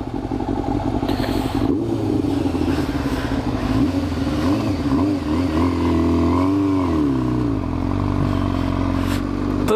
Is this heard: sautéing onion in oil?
no